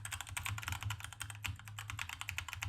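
Rapid, hard typing on a mechanical keyboard produces a dense, continuous stream of sharp key clicks, close and steady, picked up by a FIFINE K678 microphone.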